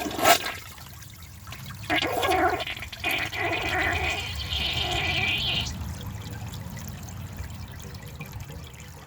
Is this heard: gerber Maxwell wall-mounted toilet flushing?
yes